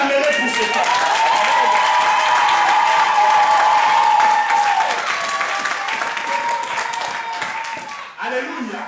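A church congregation breaks into sustained, dense applause that swells for several seconds and then gradually thins out, with voices mixed in.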